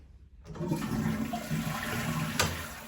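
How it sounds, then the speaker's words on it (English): A toilet flushes nearby with a loud, steady rush of water that swells and churns for a few seconds, with a brief sharp hiss near the end. "this is how you flush the toilet"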